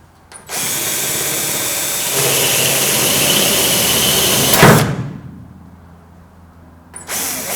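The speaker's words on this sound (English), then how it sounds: "get the drill going and then slowly push in and let the cutter do the work" A power drill fitted with a hole cutter bores into the metal scuttle panel of a classic Mini under restoration, a loud sustained whirring grind that rises in pitch, bites with a harsh burst, then winds down before restarting.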